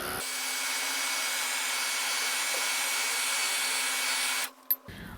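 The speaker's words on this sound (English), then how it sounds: "and then I'm going to dry it with the heat gun" A heat gun runs steadily and close for several seconds, drying paint on a handmade Christmas card. Its broad blowing hiss holds at a constant level and then cuts off near the end. A small tap follows, and no voice is heard.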